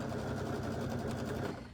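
Sewing machine stitching a quilted herringbone oven mitt, a steady fast motor whir running continuously and close up with no talking.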